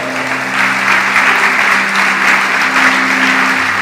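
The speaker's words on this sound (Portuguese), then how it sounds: "pode aplaudir Jesus." A church congregation at a Thursday worship service claps together, sustained dense applause filling the room at high volume throughout.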